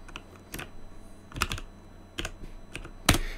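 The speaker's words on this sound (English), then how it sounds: "if we were to type in the IP address again" Keys on a computer keyboard are tapped in short bursts while an IP address is entered into an SSH client on an Ubuntu server, a few quiet clicks separated by pauses.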